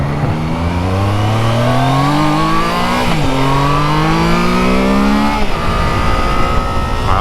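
Triumph Trident 660 motorcycle accelerating hard on a road ride, engine pitch climbing in three rising pulls with quick gear changes between them, loud and close.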